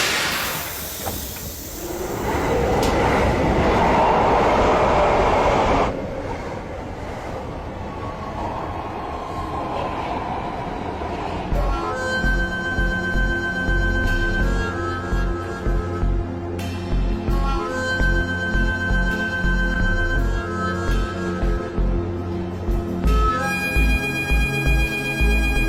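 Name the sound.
metro train running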